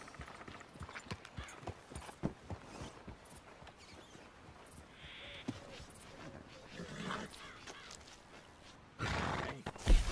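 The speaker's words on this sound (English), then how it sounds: "Hey, good looking horse there." In a video game, a horse at a stable gives clip-clop hoof steps and a whinny amid scattered clicks and ambient noise. Muffled voices are also heard, and a louder burst comes near the end.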